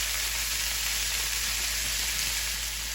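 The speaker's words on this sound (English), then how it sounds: "We will then saute those for a few minutes." Banana and Hungarian wax peppers sauteing in a pan give off a steady, even sizzle with no break, close by and moderately loud, with no voices over it.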